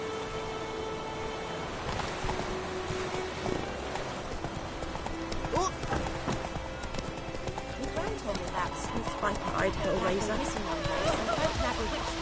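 Horse hooves clip-clop at a steady trotting rhythm while riding through White Orchard in The Witcher on PS4, with an occasional whinny, layered under game speech and ambient music.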